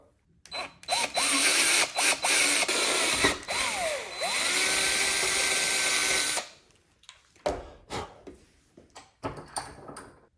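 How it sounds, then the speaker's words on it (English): A power drill whirs loudly for several seconds while drilling a hole for BMW S1000 RR clip-on handlebars, its pitch dipping as it bites in, then stops; scattered knocks and clatter follow. "try to get a very straight through drill"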